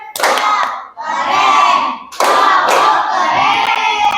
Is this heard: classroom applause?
yes